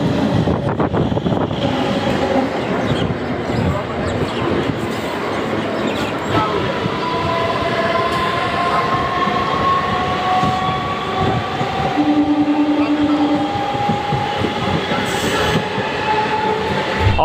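Local passenger train running from Bardhaman toward Magra, with rolling wheels, rhythmic clatter over rail joints and brief squeals heard from inside the carriage, steady and continuous throughout.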